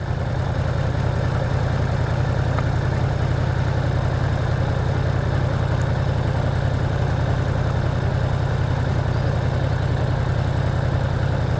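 Motorcycle engine idling steadily in first gear with no throttle as the bike creeps forward, a constant low rumbling drone heard close and alone for several seconds.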